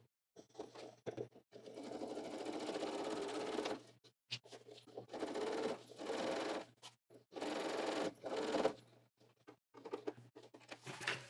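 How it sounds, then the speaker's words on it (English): A sewing machine stitches a fabric pocket in several close, loud bursts of rapid running, separated by short pauses for pivoting and reversing, with a low steady motor hum underneath and no talking. "Stitch over the edge and reverse."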